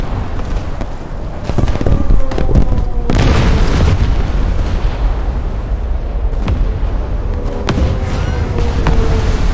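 The conning tower of the battleship Kongou explodes in a naval combat game, amid repeated heavy booms and artillery blasts over a constant loud rumble of battle noise, with several sharp impacts spread throughout.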